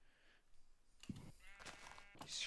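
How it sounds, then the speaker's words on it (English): A sheep in a Minecraft-style game gives a few short, faint bleats spaced apart, each with a wavering, nasal quality, heard close and alone. "Oh my goodness, it's a sheep."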